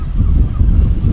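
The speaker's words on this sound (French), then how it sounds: "il y a du vent, hein, Jaco" Steady wind buffets a vegetable garden in November, a loud low rumbling roar of gusts against the microphone, continuous throughout with no voices.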